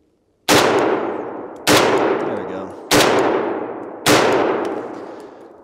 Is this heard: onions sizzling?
no